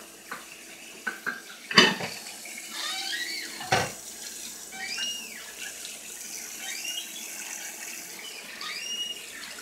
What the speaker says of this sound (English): Rinse the plate off.